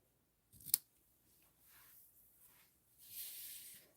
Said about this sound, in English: then we'll trim these ends a little bit more